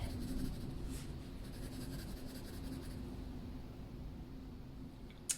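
Colored pencil burnishes paper in a soft, steady scratchy rubbing with faint rhythmic strokes, close and quiet, ending in a small sharp tap.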